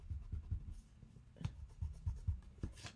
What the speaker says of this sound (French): vous n'oubliez pas de gommer en faisant très attention, surtout dans les angles, de ne pas venir déchirer